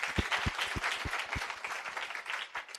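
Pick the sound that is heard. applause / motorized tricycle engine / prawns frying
applause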